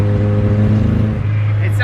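A Honda CRX engine held at partial throttle, loud and close, its uneven, stuttering drone breaking up rather than running smoothly.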